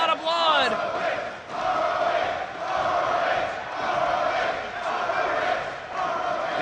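A Ring of Honor wrestling crowd roars and chants continuously in a large arena, a loud, swelling wall of cheering and shouting with a commentator's voice briefly audible at the start.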